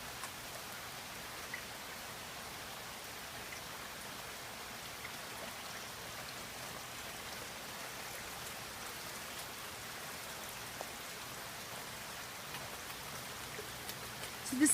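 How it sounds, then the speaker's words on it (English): Steady rain falls in a Florida yard with avocado, grape and mango trees, a soft, even wash of drops heard at a distance, with no voices. "it's raining and the sun is out."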